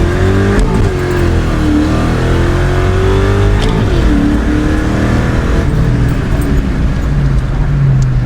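2000 Ford Mustang GT with a Hurst shifter, revving hard to 7000 RPM with no-lift shifts, a loud close engine howl with pitch climbing and dropping at each quick gear change, steady and continuous.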